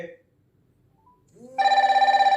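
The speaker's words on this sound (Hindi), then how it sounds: "ईयरबड में भी रिंग बज रही है, इसमें भी और इसमें भी।" An incoming-call ringtone sounds at once on a smartwatch, earbuds and a phone, entering after a near-silent gap as a steady, pulsing electronic trill, fairly loud and close, preceded by a brief voice.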